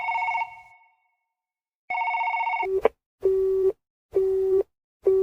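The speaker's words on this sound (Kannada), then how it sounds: "ಅದೇ ಟೈಮ್ಗೆ ಮೊಬೈಲ್ ರಿಂಗ್ ಆಗುತ್ತೆ" An electronic phone ringtone plays: a short melodic burst, a pause, then a repeated beeping pattern of three steady tones, clear and close.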